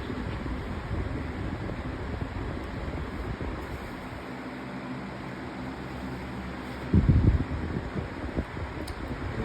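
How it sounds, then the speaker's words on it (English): A Utilitech 20-inch box fan with skinny plastic blades runs steadily, giving a constant airy whoosh with a low hum. A brief louder thump comes near the end, and no one speaks. "And it actually is blowing a good amount of air for these really skinny plastic blades."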